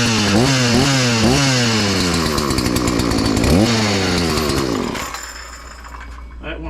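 A Stihl 240 chainsaw with freshly rebuilt carburetor and fuel lines fires up after a pull, revving loudly up and down in rising and falling surges, then dropping to a lower idle near the end, close by.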